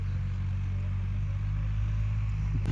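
A new New Holland 3600 tractor engine runs steadily close by, a low droning hum with an even rumble that stays level throughout, with no talk over it.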